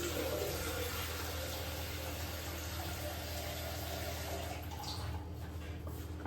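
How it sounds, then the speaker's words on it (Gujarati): Water is poured into an idli-style steamer cooker while preparing rice-flour khichu, making a continuous, fairly quiet splashing and filling rush. "અને આપણે કુકરમાં પાણી એડ કરી લઈશું."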